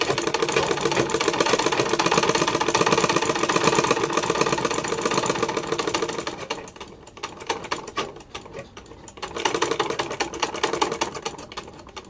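A sewing machine runs steadily stitching a straight seam in fabric, a fast continuous mechanical whirr that slows and pauses briefly before resuming, close and loud.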